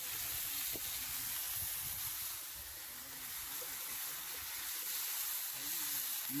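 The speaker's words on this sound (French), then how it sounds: "on voit vraiment le grésillement là, de la viande là, qui se fait" Meat sears in a hot pan, giving a steady, fairly faint sizzle and hiss that holds throughout with no one speaking.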